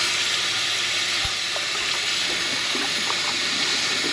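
Hawaiian black crab, or a'ama, rinsed clean under a running tap, a steady close hiss of flowing water with faint splashes and small knocks.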